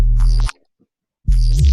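Layered neuro bass pairing a deep sub with a high-passed, growly top end; two loud, close bursts of thick distorted tone split by a brief silence.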